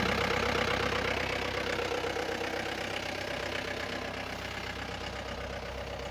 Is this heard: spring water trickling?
no